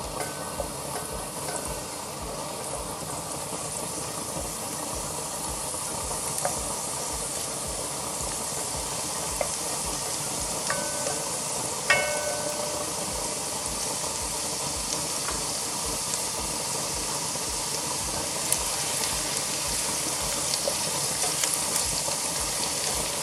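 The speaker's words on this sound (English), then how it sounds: "So I'm gonna stir the garlic for at least about 40 seconds." Garlic sizzles steadily in a hot pan for a salmon curry, a constant dense frying hiss with occasional soft scrapes and clinks of stirring, close and even throughout with no talking.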